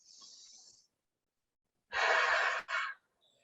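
Deep yogic breath taken during a yoga exercise: a single strong, close airy rush of breath about a second long, preceded by a fainter hiss, with quiet pauses around it.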